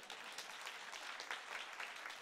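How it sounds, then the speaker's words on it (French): A church congregation claps together in a steady, dense, moderately distant wash of applause. "Ma sœur est toute seule à applaudir."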